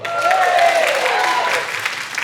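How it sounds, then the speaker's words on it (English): An audience at a fringe comedy show breaks into a loud, sustained round of clapping that fills the clip and fades slightly toward the end. "that's how easy it is for a posh white man to get a round of applause"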